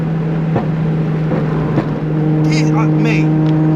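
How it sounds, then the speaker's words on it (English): A fully built Nissan Skyline R33 GTS with a one-off custom exhaust idles close by with a steady deep drone and a few sharp exhaust pops, briefly climbing into a higher note near the end. "R33, 650 brake high boost, 580 low. Listen to it."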